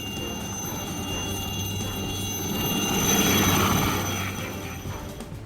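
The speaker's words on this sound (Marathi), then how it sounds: "तटरक्षक दलाच्या हेलिकॉप्टरनं खलाशांच्या सुटकेचे प्रयत्न." A coast guard helicopter hovers over the sea while crews try to rescue 14 sailors from a drifting ship. Its rotor and engine drone holds steady and swells briefly in the middle.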